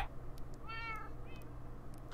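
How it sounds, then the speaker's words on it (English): A cat in the Minecraft video game meows twice, a longer wavering meow followed by a shorter one, clear over a steady low game background hum with no talk. "And there's just a whole bunch more cats here."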